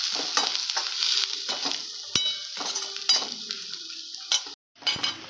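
Masala powder fries over low gas in a pan while a spoon stirs it, giving a soft continuous sizzle with repeated close scraping and light metallic clinks against the pan; no talking.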